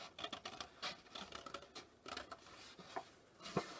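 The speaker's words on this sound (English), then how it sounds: "you can turn it and slip your scissors back into the slot, and then you can cut along the line." Scissors snip through washi paper during an Easter egg craft, a quiet irregular series of short crisp cuts and rustles heard up close with no talking.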